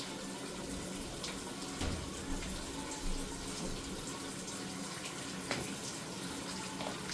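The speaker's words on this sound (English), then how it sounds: "Gotta wash my hands first." Tap water runs steadily into a kitchen sink while hands are washed, a constant close hiss and splash with a few small clatters and no talk.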